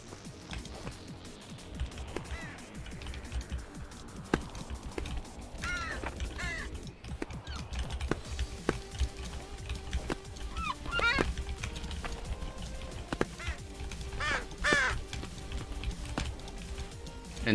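Birds caw repeatedly in the climbing video game Peaks of Yore, sharp scattered calls over a steady busy game background with clicks and thumps.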